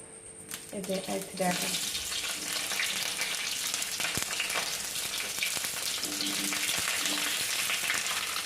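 Capsicum and onion frying in oil for paneer chilli, a loud, steady sizzle that starts after a second of clatter and continues unbroken, with brief stirring knocks and a faint voice at times.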